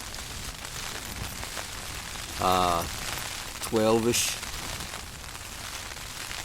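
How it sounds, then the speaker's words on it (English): Rain patters steadily on a Hilleberg Rogen tent at Kilpatrick Hills, a soft constant hiss close by, while a person briefly speaks twice over it. "The rain came on."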